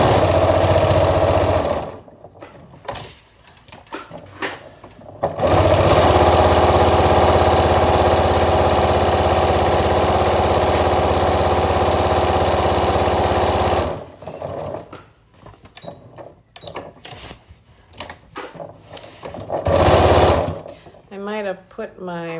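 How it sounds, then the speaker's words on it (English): A sewing machine backstitches at the start of a seam on a paniks paltuuk garment with a pocket, whirring loud and close in a short run and then a long steady stretch, followed by stop-start stitching and someone talking. "When I start sewing, I always backstitch the first part."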